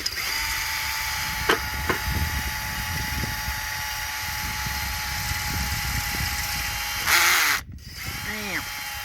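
Steady whirring of a Milwaukee power drill with a weak clutch spinning a cylinder hone inside an engine cylinder, with faint scraping and a few brief clicks, a short louder burst near the end.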